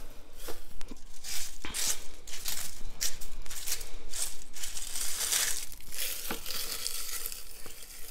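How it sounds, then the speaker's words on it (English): Dry linden flowers, leaves, bracts and stems crackle and crunch as they are crushed into a mini crock pot, a steady papery crinkling with sharper snaps scattered throughout. "I'm gonna crunch up all these little linden flowers, leaves, bracts, and stems into my mini crock pot"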